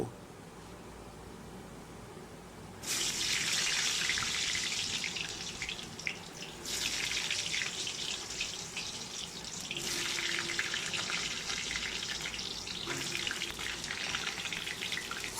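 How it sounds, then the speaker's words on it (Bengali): Potatoes drop into hot oil for a chicken kosha, and a loud hissing sizzle bursts on abruptly. The hiss surges again in several waves as more pieces go in and keeps a steady, close roar with no talking. "তেল গরম হয়ে গেছে প্রথমে আমি আলুগুলো ভেজে নেব"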